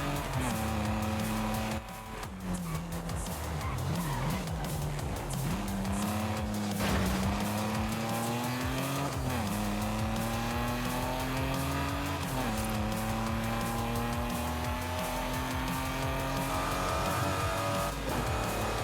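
A Mercedes-AMG roars through gear changes in Forza Horizon 5, its engine note rising and falling steadily at close range while tires squeal and skid through corners, loud and continuous with no talking.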